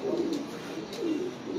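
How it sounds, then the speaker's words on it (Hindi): Champion pigeons coo in soft low rolling calls, close by and steady, with a faint hiss of background noise and no talk. "दोनों ही मेरे चैंपियन कबूतर।"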